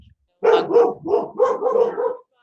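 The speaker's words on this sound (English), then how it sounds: "dogs are all talking to each other." Several dogs bark in a run of about five close, mid-pitched barks with short gaps, loud and near, with no talking over them.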